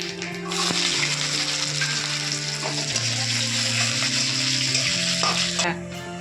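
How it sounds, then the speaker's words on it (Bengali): Steady, loud sizzling of garlic and black cumin frying in hot oil in a wok, with occasional scraping and stirring, lasting throughout before easing off at the end. "রসুন কালো জিরা আমার ভাজা হয়ে গেছে।"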